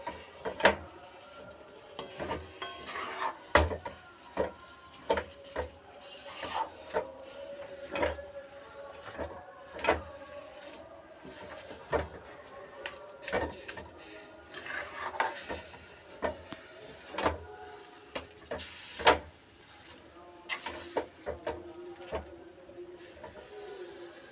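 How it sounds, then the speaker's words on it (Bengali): Laddu mixture stirred in a kadai over a low flame, a spoon scraping and knocking against the pan in irregular, faint strokes over a quiet background, with no talking. "ততক্ষণ নাড়তে থাকবো যতক্ষণ কড়াই থেকে উঠে উঠে না আসে।"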